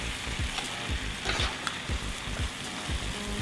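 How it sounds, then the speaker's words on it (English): Shellfish and white wine sizzle steadily in a hot pan while being stirred, with a rhythmic series of soft scraping strokes repeating about every half second over the constant frying hiss, close and alone. "Go ahead and stir it a little more."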